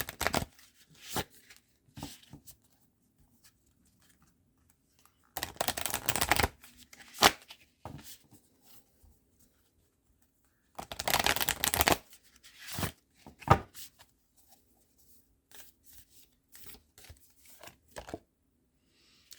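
Deck of archetype oracle cards being shuffled, with two long bursts of riffling and many short flicks and taps of cards between them, close and fairly quiet, with no talking.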